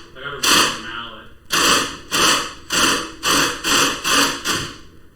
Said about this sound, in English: Yeah, I got a rubber mallet.